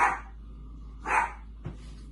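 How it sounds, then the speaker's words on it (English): Three separate barks from a dog, spaced about half a second apart, fairly loud and close, with quiet background between them. "Mimosa is just barking and making a whole lot of noise"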